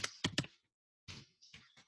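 Quick, close clicks of typing on a computer keyboard come in a fast cluster of three taps, a pause, then several more scattered keystrokes, faint and with no talking.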